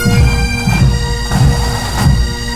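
Massed military pipes and drums at the Edinburgh Military Tattoo: pounding drums beat in a steady rhythm beneath sustained droning bagpipes, dense and loud throughout.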